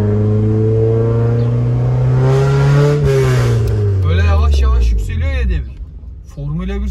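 A Honda car engine revs slowly upward, its pitch climbing steadily before easing off, loud and close from inside the car, with people talking over the tail end.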